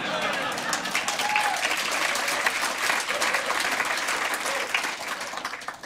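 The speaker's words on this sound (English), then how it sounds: "Put your hands together properly." Audience applause at a public lecture on cities by a Harvard professor: a full, dense wash of clapping from a large crowd, sustained and even for several seconds before tapering slightly at the end.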